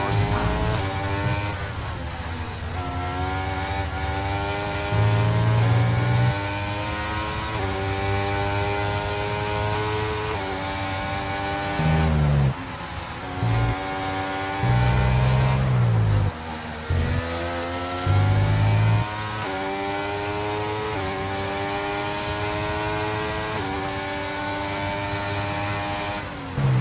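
Formula 1 cars of Norris and Verstappen scream through turns on track, their engines rising and falling in pitch through repeated gear shifts, with race commentary heard over them.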